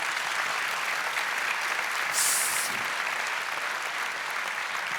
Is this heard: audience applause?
yes